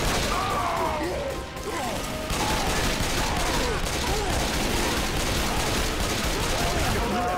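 Gunfire in the video game Left 4 Dead 2, dense overlapping shots and crashing impacts over busy game noise, with chirping creature-like cries and a short lull before the shooting resumes; voices are mixed in.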